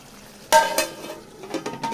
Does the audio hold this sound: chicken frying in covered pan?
yes